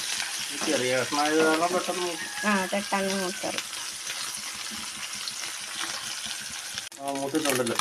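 Sardines fry in oil for a Kerala-style sardine pickle, giving a steady hissing sizzle that runs under a voice talking throughout.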